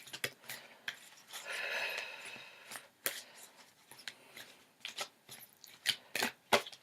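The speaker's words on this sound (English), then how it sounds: "I just kind of shuffle till it says done, or cards start flying out." A deck of cards, likely tarot or oracle cards, is shuffled by hand up close, making soft riffling swishes and scattered sharp taps and clicks.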